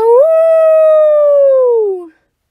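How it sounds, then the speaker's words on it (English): A single long howl rises, holds steady and slides downward before cutting off, loud and clear, used as a sound effect in a Halloween audio story set in a lodge. "The howling echoes throughout the lodge."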